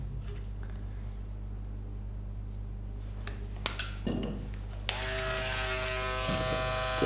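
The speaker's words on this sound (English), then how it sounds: "I have a foil shaver." Electric foil shaver buzzing during a girl's skin-fade haircut, a steady close hum that steps up into a brighter, louder buzz partway through, with no talk.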